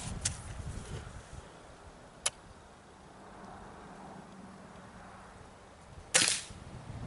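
A Crosman Vantage .22 air rifle fires outdoors: a few sharp, separated shots, with a faint crack near the start, a crisp one a couple of seconds later and a louder, longer report near the end over low background rumble.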